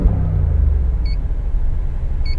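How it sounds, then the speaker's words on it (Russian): Low, heavy engine rumble from a Mercedes-AMG G63 SUV being revved, steady and close, with two brief high electronic beeps toward the middle and end. "вы должны почувствовать, как машина дрожит, когда нажимаешь на газ"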